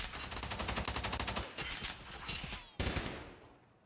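SA-58 rifle fire in a video game at a competitive LAN event: rapid bursts of automatic shots in a dense, loud rhythm, then a short pause and another sharp burst, with no talk.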